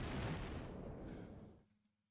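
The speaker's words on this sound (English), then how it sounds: "we just caused a nuclear explosion in the mountains" A heavy, rumbling blast fills the clip at full strength, then dies away into near silence within two seconds.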